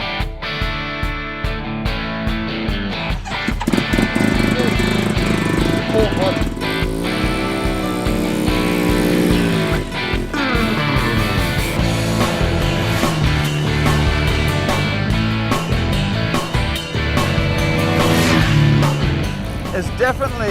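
A Suzuki RE5 rotary-engined motorcycle idles with a steady, slightly loping beat, close and fairly loud throughout, with occasional sharper pops and rev changes and a voice speaking over it at times.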